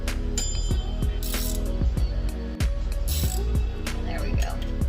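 A ratchet wrench works a 10 mm bolt on the rear brakes of a GT500 racecar, with a quick, close series of clicking pawl strokes and metallic clinks in repeated bursts.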